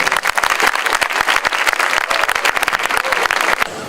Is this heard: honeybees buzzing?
no